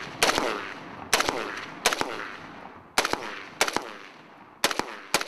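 Gunfire on a military firing range, close and loud sharp shots arriving in quick doubles and triples at regular intervals, each followed by a short echoing decay.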